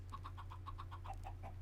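Chickens clucking in a Minecraft chicken farm, a steady run of short, evenly spaced clucks over a constant low droning hum, with no talk.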